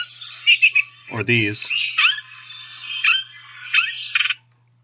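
Several Baltimore Oriole calls ring out as short, clear, whistled and buzzy notes spaced across a few seconds, with a brief spoken voice cutting in partway through.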